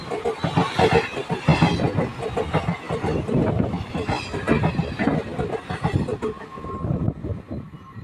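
Gangasagar Express passenger train running past on the tracks, a loud, close, continuous roar of wheels with rhythmic clickety-clack and rattling carriages that stays steady throughout before easing slightly at the end.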